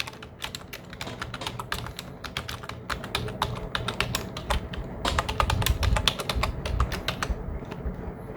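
Fingers type an address on a computer keyboard, a rapid, uneven stream of close plastic key clicks with occasional heavier taps, continuing steadily before thinning out near the end.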